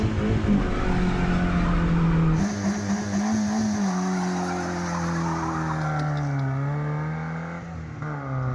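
A Ford Festiva driving hard with a loud engine drone, tires squealing and skidding as it brakes, the engine note shifting and falling over several seconds with no talk.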